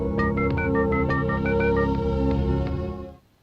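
A quick run of short electronic dialing tones, each a brief beep in rapid succession, over a steady musical background that fades out at the end, from an action film.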